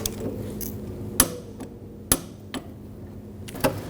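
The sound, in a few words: wrench torquing fuel tank strap bolt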